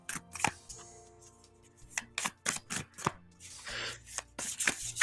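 Tarot cards being shuffled by hand during a live reading, a run of soft papery riffles and slaps in uneven bursts, close and fairly quiet with a faint hum beneath.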